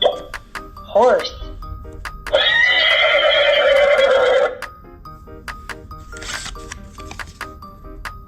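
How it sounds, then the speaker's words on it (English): A horse neighs once in a loud, wavering whinny lasting about two seconds, set among short clicks and chimes, with a brief voice before it and fainter sounds after. "Horse."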